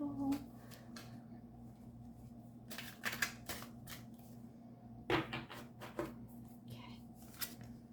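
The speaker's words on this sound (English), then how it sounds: "let's shuffle" Tarot cards being shuffled by hand, a series of soft riffling bursts and papery flicks spread across several seconds with quiet gaps between them, close and fairly faint.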